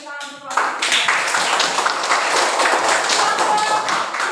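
A class of students claps for a student group during a lesson: a brief voice, then sustained, lively, dense clapping close by at moderate loudness until the end.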